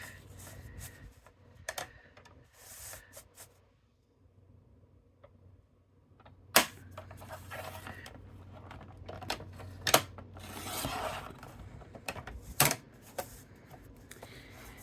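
Paper for a handmade card being cut on a blade trimmer with a dull blade, sharp clicks and short slicing scrapes scattered unevenly, close and moderately loud, with a quiet pause early on.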